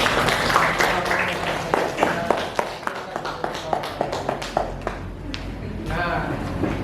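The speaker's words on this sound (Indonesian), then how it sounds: "kita kasih tepuk tangan dulu untuk kelompok FEB." Students in a classroom clap for a presenting group, scattered, uneven claps tapering over several seconds amid background chatter.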